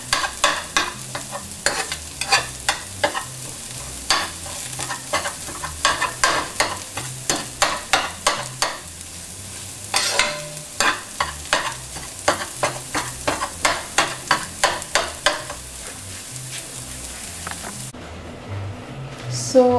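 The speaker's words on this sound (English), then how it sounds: "And just saute it for 1 or 2 more minutes and it is ready." Food for samosa chaat being sautéed and stirred in a pan: a steady run of rhythmic scraping strokes over a constant frying sizzle, close and fairly loud, with no talking.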